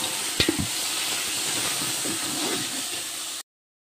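A large pot of biryani being cooked in bulk for a charity food offering, with mint just added, gives a steady close hiss of sizzling and steam, with a couple of quick knocks of the stirring spoon near the start.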